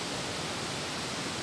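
A small stream flows in a quiet outdoor spot, making a steady, close broadband rushing and trickling wash with no voices.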